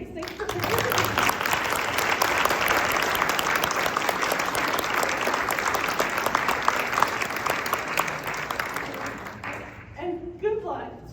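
Audience applause for the school board candidates at a Lindon/South Pleasant Grove school board Q&A: dense, steady clapping fills the room for about ten seconds, then fades as a voice begins speaking.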